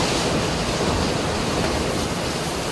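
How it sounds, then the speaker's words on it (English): Strong storm wind with an inflow jet and flying debris roars in a constant, heavy rush of noise buffeting close to the microphone, with no voices. "It's about to get real windy."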